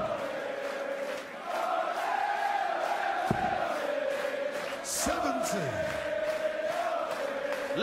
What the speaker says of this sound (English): Crowd gets involved.